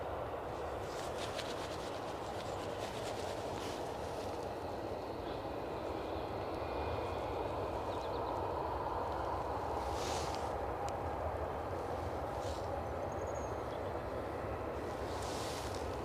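A Transavia airliner taxis at Edinburgh Airport, its engines a low continuous rumble heard from a distance, steady throughout with faint higher whines drifting in and out.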